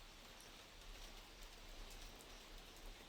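Heavy rain falling in a hilly area, a steady dense hiss of drops pattering on surfaces, fairly soft and even throughout with no voices.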